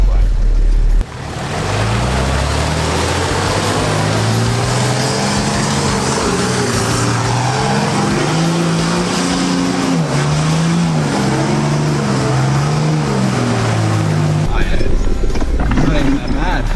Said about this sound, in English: We're in 4-wheel drive, low range.